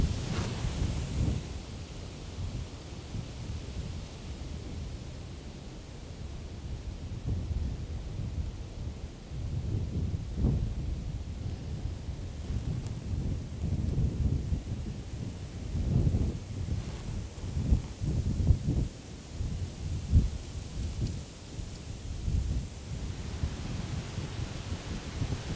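Strong wind blowing outdoors in a wooded spot during a deer hunt, a steady roaring rush with heavy low buffeting gusts against the microphone throughout.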